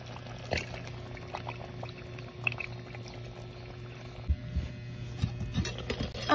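Soy sauce is poured over cooked prawns in a pan, producing a faint, brief liquid pour and a soft bubbling sizzle against a quiet background hum.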